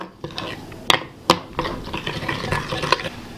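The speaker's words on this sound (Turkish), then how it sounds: "Salatamızın sosunu ekliyoruz. Salatamızı güzelce karıştıralım." Potato salad being mixed with its dressing, a spoon or utensil scraping and clinking against the bowl in a steady run of close stirring strokes with a few sharper knocks.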